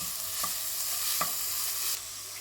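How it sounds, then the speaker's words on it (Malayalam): Chopped onions, two medium ones, stirred into a hot pan for prawn biryani, giving a steady close sizzle of frying with a few soft scraping stirs of the utensil and no talk. "2 മീഡിയം സൈസുള്ള സവാള ചോപ്പ് ചെയ്തതാണ്, അത് ആഡ് ചെയ്ത് കൊടുക്കാം. നന്നായിട്ട് മിക്സ് ചെയ്യാം."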